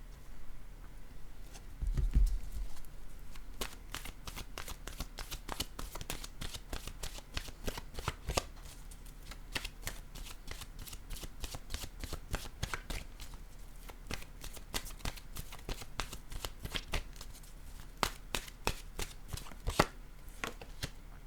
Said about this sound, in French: Je vais y aller maintenant avec une carte de mon oracle